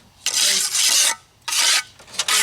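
A wet concrete block foundation wall is scraped before parging, with harsh rasping strokes in two long passes and a shorter third one, loud and close with no talking.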